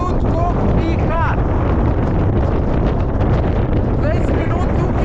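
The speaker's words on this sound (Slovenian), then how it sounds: "Ampak slišite tudi, koliko piha." Strong wind buffets a microphone on the coast of the island of Rab, a dense, steady roar of rumbling gusts lasting the whole time, with faint traces of a voice buried under it.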